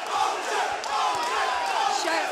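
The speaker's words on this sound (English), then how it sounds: "The crowd behind me is going crazy." At an Enfusion kickboxing fight, a large arena crowd keeps up a dense, continuous roar of cheering and shouting.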